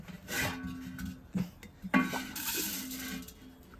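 Metal basin and plates handled in a home kitchen, giving a few loud clanks and clinks between softer scraping and rubbing, close by and with no talking.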